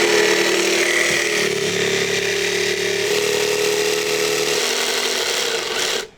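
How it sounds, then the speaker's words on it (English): A jigsaw cuts a square hole in a floorboard with its table tilted for a tapered edge, a loud, steady buzzing whine with rough rasping through the wood, continuous until it stops abruptly at the end. "So I'm going to use my jigsaw to do that"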